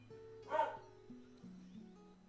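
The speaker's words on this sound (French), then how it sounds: "Avec la chienne qui gueule." A dog gives a single short bark, close and fairly sharp, followed by low background hum and a faint voice.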